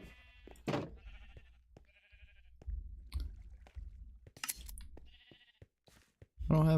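Sheep in Minecraft bleat in short, separate calls between soft footsteps and game clicks, with a louder burst at the end.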